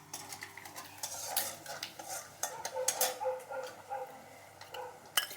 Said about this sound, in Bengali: বেশ ফোড়নটা সুগন্ধ বেরিয়েছে, এখন দিয়ে দেবো এই যে মেথি।